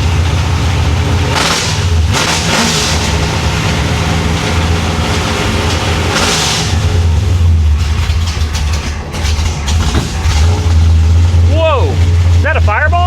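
A 1966 Chevy Impala V8 fires up and runs loud and close, with a low rumbling idle swelling in a few revs, while people talk over it.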